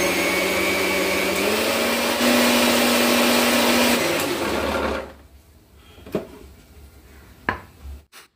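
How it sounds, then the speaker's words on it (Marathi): A kitchen mixer grinder whirs loudly and steadily while grinding sesame, peanuts and coconut into a paste, its motor pitch shifting briefly before cutting off about five seconds in, followed by a few knocks of the jar and lid. "आता हे मिक्सरचे भांडे मिक्सरवर चढवून व्यवस्थित वाटून घ्यायचे."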